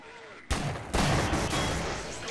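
Sniper gunfire in the Half-Life video game, a sharp blast followed by another heavy burst of rapid firing that rolls on loudly and densely, with a voice briefly under it.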